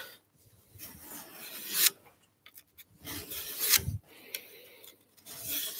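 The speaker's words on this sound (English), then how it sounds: "Give them that small diamond file because it's not too cumbersome, not too heavy to support." A small diamond file rasps along the edge of a garden tool in a few short strokes, each a quick scraping burst with quiet pauses between, close and clear with no talking.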